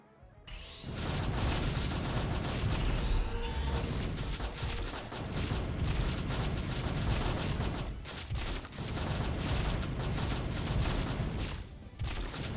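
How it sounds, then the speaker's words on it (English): Spell explosions in the fantasy action game Spellbook Demonslayers, a dense, continuous barrage of loud blasts, crackles and crashes layered over one another, with brief dips before the onslaught resumes. "Oh, it's explosions after the fire."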